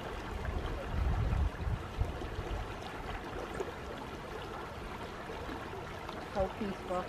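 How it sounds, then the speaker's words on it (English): River water runs over rocks at the Chippewa Nature Center in Midland, Michigan, giving a steady low rushing wash with a louder burst early on and faint wind through the rest, with no talk over it. "Listen to the river flowing over those rocks."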